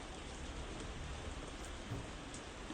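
Steady rain falls outdoors on a summer porch, a dense continuous patter of drops on surfaces, even and unbroken at moderate distance, with no voices.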